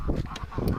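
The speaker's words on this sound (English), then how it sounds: "Oh, I hear a whole bunch of ducks." Wintering ducks and geese call outdoors on a snowy winter farm, a quick burst of loud, nasal honks and quacks overlapping in short bursts, close by and without speech.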